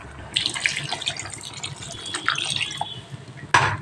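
Water is poured into a simmering potato, pointed gourd and egg curry, a steady splashing pour that runs for a few seconds, ending with a louder splash near the end.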